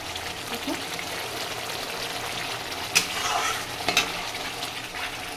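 Spice paste of ground mustard is stir-fried in oil for a fish curry, a steady close sizzle broken by a few sharper spatula scrapes and knocks against the pan.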